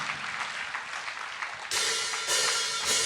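Congregation applauding during a Sunday church service, a steady wash of clapping that grows denser and louder partway through, with no talking over it.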